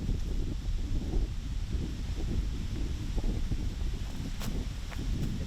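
Wind gusting across an open disc golf course, a steady low rumble of buffeting against the microphone throughout with faint rustling and no talk.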